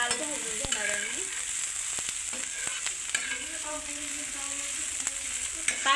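Chopped onion frying in a pan until reddish-brown gives a steady, close sizzle, with scattered scraping clicks from stirring throughout.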